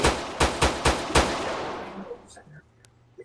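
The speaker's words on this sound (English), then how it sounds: "Bro, what is she shooting at?" Video game gunfire rings out as five sharp, evenly spaced shots that trail off into a fading echo, followed by quieter scattered sounds.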